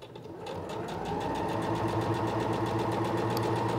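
A Singer Professional 9100 sewing machine stitches a zipper, its motor spinning up quickly and then holding a steady, close hum with fast, even needle clatter.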